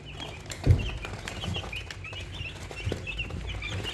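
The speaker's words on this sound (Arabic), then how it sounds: "يعني مربيين الفراخ تحت السرير عشان العلف غلي" Chicks and chickens kept in a home under a bed cluck and chirp softly in a quiet indoor space, with a few louder bumps and short calls scattered throughout.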